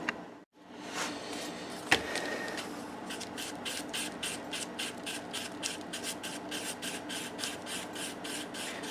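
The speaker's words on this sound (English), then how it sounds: "let me mix up the adhesive" Repetitive scraping and rubbing as JB Weld epoxy adhesive is stirred and mixed, quiet and close, settling into a steady rhythmic back-and-forth stroke pattern.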